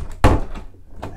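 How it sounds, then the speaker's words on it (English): The sliding ensuite cabin door on a 2005 Fairline Squadron 58 yacht closes with a single sharp, close thunk, followed by a fainter knock a moment later. "so if this door is closed across."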